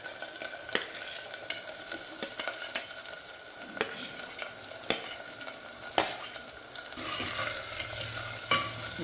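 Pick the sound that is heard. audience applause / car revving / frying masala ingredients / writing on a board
frying masala ingredients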